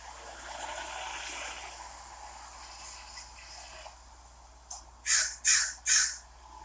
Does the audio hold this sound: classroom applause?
no